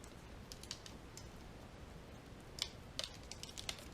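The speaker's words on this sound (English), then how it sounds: "That sound is the insulation hitting the paper down there." Brittle, green-corroded wire insulation on a vintage Beta Synt trial bike crumbling and dropping onto paper, heard as faint scattered light ticks and crackles that cluster near the end over a low steady hiss.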